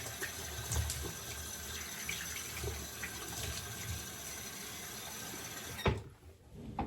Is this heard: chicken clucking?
no